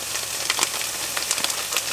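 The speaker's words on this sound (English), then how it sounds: "I'm just gonna put the rice, saute that for maybe 2 or 3 minutes" Rice and vegetables sauté in a pan inside a camper van at a rest area, giving a steady hissing sizzle with small crackles and no voices.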